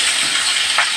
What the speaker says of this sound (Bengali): একটু ভেজে নিই ভালো করে